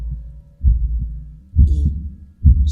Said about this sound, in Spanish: el latido infernal del corazón del anciano era por segundos más fuerte